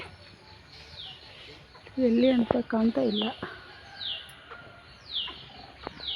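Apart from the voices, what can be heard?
ratan bird calling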